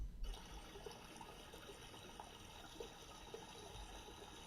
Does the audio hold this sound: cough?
no